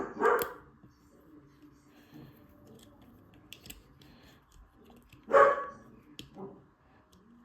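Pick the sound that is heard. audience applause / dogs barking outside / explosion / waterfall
dogs barking outside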